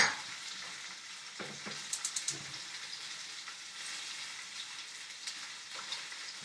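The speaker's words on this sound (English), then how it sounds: "All right, so I'm gonna melt the butter on the stove." Butter melts and sizzles in a pan on a stovetop, giving a steady crackling hiss with scattered sharper pops and a few soft clinks, continuous throughout with no one speaking.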